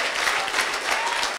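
A church congregation applauding, a dense wash of many hands clapping steadily together, fairly close and sustained throughout before cutting off abruptly.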